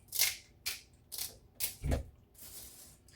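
Several short crisp snips of scissors trimming the fins and tail of a sea bass, in an uneven series, close and quiet, with no talking.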